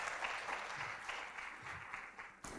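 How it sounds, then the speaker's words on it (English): Audience applause at a literacy and numeracy showcase event, a faint, steady patter of clapping that fades gradually over a couple of seconds, with no talk. "please give a round of applause to Valentine and the team from EIDU"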